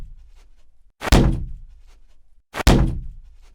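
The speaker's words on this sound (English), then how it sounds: "a collision sound" Collision sound effect for a sushi video game: two heavy, dull thunks about a second and a half apart, each a hard impact that tails off quickly, with near silence between them.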